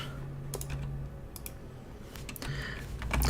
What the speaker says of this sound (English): these keyboard sounds are brought to you by the Aperture keyboard